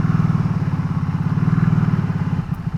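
Steady mid-pitched engine drone from a Can-Am Spyder cornering under gradually increasing throttle, a close, continuous pulsing note that rises slightly, with a brief dip near the end.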